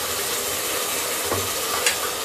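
Garlic, ginger and chili paste stirred and frying in a pan for mutton curry, a steady close sizzle with brief scraping strokes of the spoon.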